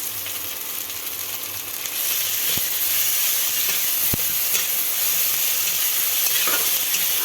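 Garlic paste hitting browned onions in a hot pan, a steady sizzle that swells louder after it is added, with a couple of sharp utensil knocks, no speech.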